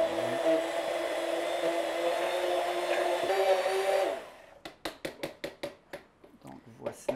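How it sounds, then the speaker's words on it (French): Countertop blender grinding nuts into a mixture, a loud continuous whirring drone for about four seconds, then stopping and followed by a series of short sharp knocks or taps. "il faut brasser un petit peu plus pour vraiment bien les broyer"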